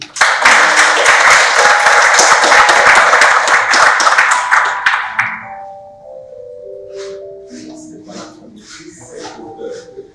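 Audience applause at a school television special event, loud and dense clapping for about five seconds that stops abruptly, followed by quieter talk and a few tonal sounds.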